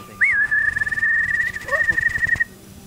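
A person whistling to imitate a bird call, a single long sustained whistle that opens with a quick upward swoop and holds one high note, close and clear over faint background rumble.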